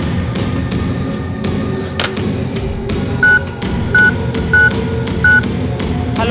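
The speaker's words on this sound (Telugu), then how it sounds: "పదండి పోలీసులు ఫోన్ చేద్దాం" Telephone keypad tones dialing the police, four short evenly spaced beeps standing out clearly over background music and room noise.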